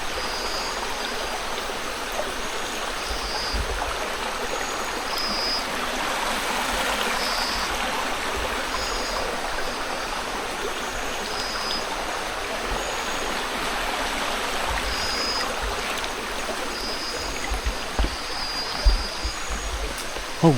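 River water rushing steadily, a broad continuous hiss and gurgle heard close by, with faint bird-like chirps and a few soft knocks near the end.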